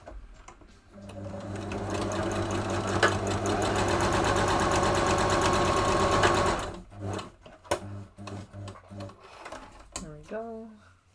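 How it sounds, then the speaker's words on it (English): Sewing machine stitching a hat, a fast, even mechanical whir that runs steadily for several seconds, then stops and gives way to clicks, handling sounds and someone talking. "I'm sewing by machine and the machine's loud"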